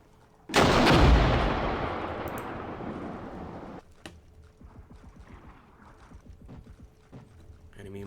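Tank gunfire in the Cold War combat game Armored Brigade, with one loud, close blast followed by a long rumbling decay, then quieter scattered thumps and distant battle noise.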